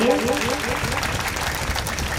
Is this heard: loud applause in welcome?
yes